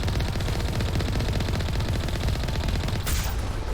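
Rapid automatic gunfire in the sci-fi shooter Mass Effect, a dense steady stream of loud, close shots with no break for nearly four seconds, and a brief hiss near the end.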